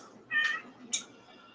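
A cat gives two short meows close by, the first longer and rising, the second a brief sharp squeak, over a low room hum.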